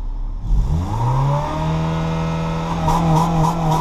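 A Honda Civic engine with a duct-taped muffler revs up with a rising whine, then holds at a high, strained pitch near 5,000 rpm, loud and close, with a slight sputtering at the top.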